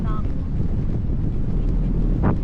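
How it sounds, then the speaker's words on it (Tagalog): Strong wind buffets the microphone in a constant roaring rush while parasailing in Boracay, with a brief faint tone at the start and a short thump near the end. "Uy, lumalakas ang hangin. Lumalakas ang hangin."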